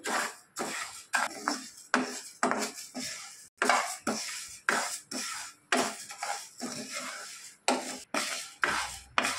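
Moong dal lentils are dry-roasted in a pan, heard as a rhythmic series of scraping, rattling stirs repeating roughly every half second, close and clear with no talking.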